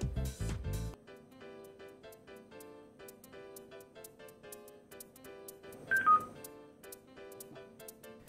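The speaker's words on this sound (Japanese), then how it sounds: "ペアリングが成功した合図ですかね。" A short rising electronic chime from an LFS-190 Bluetooth speaker confirming pairing sounds over quiet background music, following a brief burst of noise at the start.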